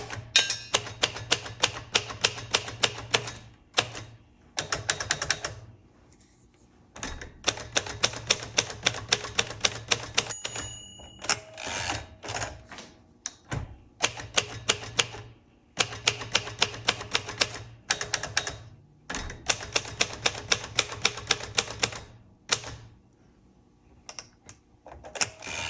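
Brisk bursts of typing on a 1968 Royal Custom II manual typewriter with elite typeface, crisp key strikes in rapid runs separated by short pauses, close and clear with no talk.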